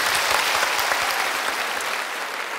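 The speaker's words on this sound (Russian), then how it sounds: "друзья, под ваши аплодисменты" Steady, dense applause rises from the audience at a KVN comedy contest warm-up round as a performer is welcomed, loud and unbroken with no voices on top.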